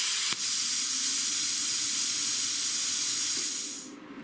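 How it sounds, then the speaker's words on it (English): Steady loud rush of air blowing through a plasma cutter torch nozzle after the trigger is released, a continuous hiss lasting about four seconds before cutting off, with a faint click near the start. "once I release the torch, there will be air flowing through the torch, through the nozzle to cool it down for 3 seconds"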